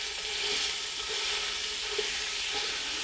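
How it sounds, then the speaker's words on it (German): Minced meat browning in hot oil in a pan, a steady close sizzle and crackle with small pops throughout and no talking. "Da werden wir uns jetzt portionsweise das Hackfleisch drin anbraten."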